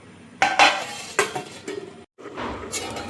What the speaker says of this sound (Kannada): ಇವಾಗ ಲಿಡ್ ಕ್ಲೋಸ್ ಮಾಡಿ ಬೇಯಿಸ್ತೀನಿ.